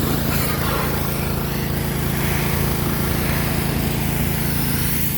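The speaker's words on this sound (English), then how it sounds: "you always got to have a power washer when you cut lumber" A power washer sprays freshly sawn black walnut lumber at a sawmill, a loud, steady engine drone under the hiss of the water jet, running without a break and with no talk.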